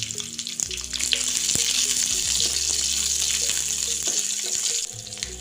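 Chopped onions with cumin and nigella seeds frying in hot oil in a kadai for paneer do pyaza, a loud close sizzle that swells after the first second, with occasional stirring clicks and no talk.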